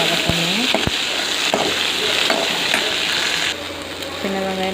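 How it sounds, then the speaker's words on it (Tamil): Small onions sautéing in hot oil in a pan for fish kulambu, a steady close hiss and sizzle with stirring scrapes throughout, and a voice speaks briefly over it. "இப்போ சின்ன வெங்காயம் ஆட் பண்ணி நல்லா போட்டு வதக்கணும்."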